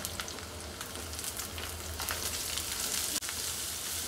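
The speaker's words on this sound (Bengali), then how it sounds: "এখন আমি ভালো মতো ভেজে নিব। এই পর্যায়ে আবার দিয়ে দিব পেঁয়াজগুলো।" Onions sizzle steadily in hot oil in a pan, cooked for a Bengali curry of radish with dried mola fish. The frying crackles continuously and close by, with a faint clink near the end and no talking.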